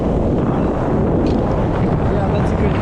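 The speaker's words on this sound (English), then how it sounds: "that's a good gust right there" Strong wind gust buffeting the microphone beside a sheltered lake, a steady loud broadband roar that persists throughout with no letup.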